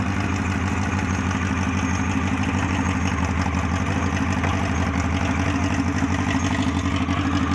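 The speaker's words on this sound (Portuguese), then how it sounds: "Meu auxiliar vai dar a partida aqui no veículo." A Gurgel BR 800 car fitted with a Honda CBR 900RR motorcycle engine idles steadily, a continuous low engine hum with a fine rapid pulse and no talk over it.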